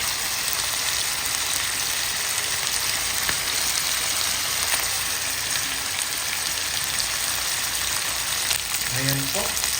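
Chicken pieces sizzle and fry steadily in a pan for adobo, a dense, continuous crackle that never lets up, with a brief faint clink near the end.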